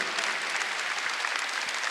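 A Sunday worship congregation claps together, a dense, even wash of applause that stays level and continuous throughout the short stretch.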